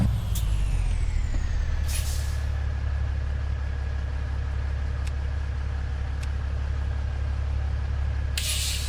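A truck's air brake hisses in American Truck Simulator, with sharp bursts of released air at the start and near the end over a steady low idling engine drone.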